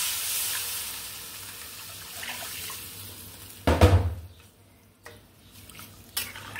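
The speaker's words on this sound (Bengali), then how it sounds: "এখন এই পর্যায়ে দিয়ে দিব আমি ঝোলের পানি" Water is poured into a hot pan for a rohu fish and potato curry gravy, a short loud splash and sizzle followed by quieter simmering and a couple of light knocks.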